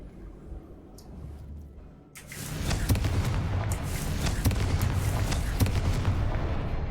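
Booming fiery blasts from the Confringo spell in the video game Hogwarts Legacy, starting after a quieter stretch and building into a loud, dense barrage of explosions and crackling impacts that continues to the end.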